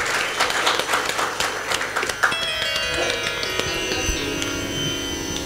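An audience at a Bhagwat Katha religious discourse gathering in Shukatal claps in a dense burst of applause that gradually thins, with a sustained musical tone entering partway through.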